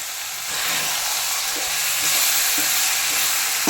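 Ground masala paste cooking in a pot of sambar, a steady close sizzle and hiss of simmering with faint stirring thumps, no talking.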